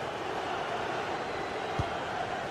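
Steady crowd roar from a video game football match, a dense continuous wash of stadium noise at moderate level with one brief low thump near the end.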